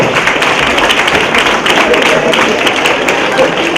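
A crowd of students claps at the Swami Vivekananda Youth Leadership Awards ceremony, a loud, continuous wash of many hands with no pauses through the whole stretch.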